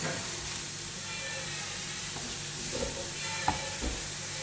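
Urad dal and mustard seeds sizzle in a pan with vegetables while being stirred for a vegetable thoran: a steady, even frying hiss with a few light scrapes and taps near the end.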